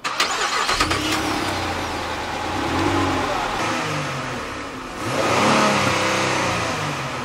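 A 2015 car engine, from a Chrysler 300, Chevy Impala or Ford Taurus, revs to about 3,000 RPM and settles twice, rising and falling in pitch, heard close and loud with no talking.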